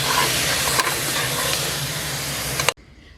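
Cut tomatoes dropped onto browned onions frying in ghee for bhuna mutton, giving a loud, dense hiss and sizzle that holds steady, then cuts off abruptly just before the end.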